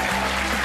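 Studio audience clapping on the Australian game show Wheel of Fortune, a brief burst of dense, steady applause filling the room at close range.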